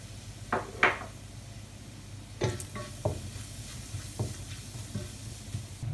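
Cumin seeds and red chili sizzle in hot oil in a pan for a mixed vegetable dish, with a steady frying hiss broken by a few sharp clinks and scrapes of stirring.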